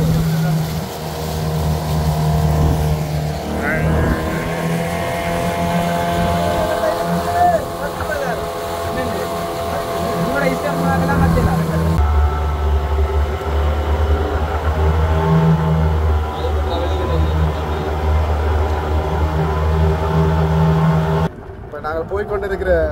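A boat motor drones steadily and loudly at sea, a constant low hum with harmonic tones that persists throughout while people talk over it.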